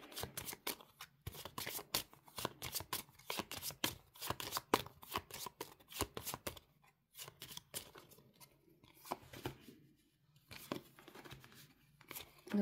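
Cards are shuffled close up for a psychic reading, a quick run of crisp riffling and flicking bursts, briefly pausing and then resuming more sparsely, quiet and without speech.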